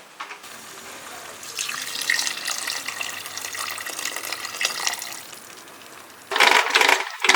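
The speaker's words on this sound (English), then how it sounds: "So now we are just going to go in with the water and make the stew." Water pours from a tap or jug into a cooking pot for chicken stew, a steady splashing broadband rush for several seconds that thins out, then a louder burst of splashing near the end.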